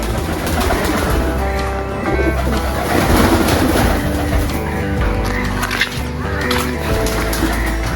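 Steady pigeon cooing in a garden aviary blends into a busy, loud outdoor background, with other birds calling throughout and no voices.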